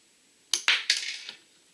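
A small Lego stud shooter on a First Order battle pack build fires, giving a few quick, sharp plastic clicks and a rattling skitter of a stud, close up and alone.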